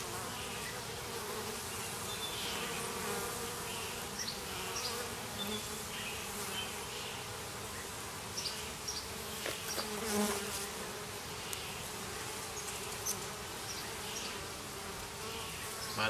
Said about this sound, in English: These do some serious buzzing.